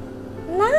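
A pet cat gives a single short rising meow close up, following a brief quiet moment.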